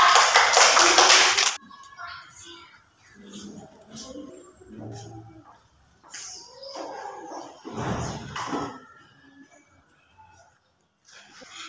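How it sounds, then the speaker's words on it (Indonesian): A short burst of hand clapping opens the scene, loud and close, then stops abruptly, leaving sparse taps, thumps and faint voices in a quieter room during a Catholic religion lesson. "tepuk tangan untuk dia"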